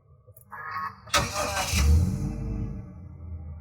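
A brand new 2020 Toyota Hiace Super GL van, recorded up close: a brief starter whine, then the engine catches with a loud burst and settles into a smooth, even idle.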